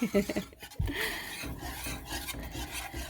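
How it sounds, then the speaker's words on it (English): Beef stroganoff whisked in a pan at medium heat, a steady close scraping and rubbing of the whisk against the pan with a few light metallic knocks, fairly quiet. "And just mix and mix and mix and mix. Or whisk, I should say."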